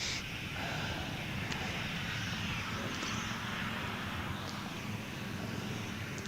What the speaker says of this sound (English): Virgin Australia about to depart. Velocity 516, clear for takeoff.